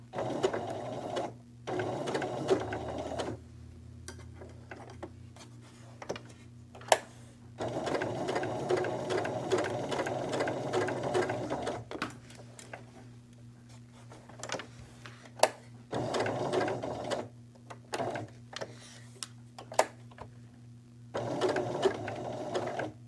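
A domestic sewing machine stitches fabric around curves in repeated bursts of steady mechanical whirring, each run stopping briefly for a pivot before starting again, close and clear with no talking.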